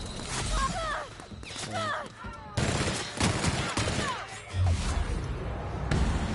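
Gunfire in The Outer Worlds video game, bursts of loud rapid shots and impacts scattered through the stretch, mixed with in-game voices and sound effects.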